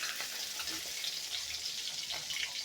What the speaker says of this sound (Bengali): দেখুন হালকা করে ভেজে নিচ্ছি